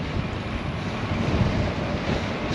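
Strong gusting wind roars steadily into the microphone during a road bike ride, a continuous loud rumble that fills the whole clip with no speech.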